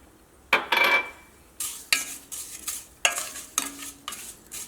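Vermicelli frying in ghee over a low flame, with a spatula scraping and stirring the pan in repeated short strokes against a soft background sizzle.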